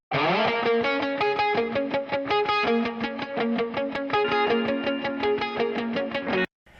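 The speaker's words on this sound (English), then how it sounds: "we've got a doubled up crunchy guitar right here" A crunchy, distorted electric guitar through an Orange amp, with a thick doubled sound, plays a rhythmic chugging chord pattern, then stops abruptly.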